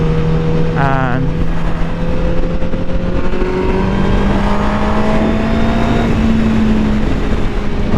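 A 2018 Honda CBR1000RR sport bike engine drones steadily while riding, with pitch slowly rising through the gears and wind rush throughout, loud and close, and a rider talking over it.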